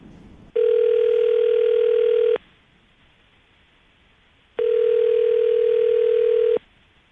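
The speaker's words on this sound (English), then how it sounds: "we're going to call him right now, see if we can get him on the phone" Two long, steady electronic telephone ringback tones sound while someone places a call. Each lasts about two seconds, with a quiet gap of about two seconds between them.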